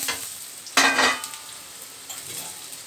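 Ground spices sizzle in a pan, with a sharp burst of hissing as a splash of water hits the hot oil, followed by a fading sizzle and light stirring; no one talks.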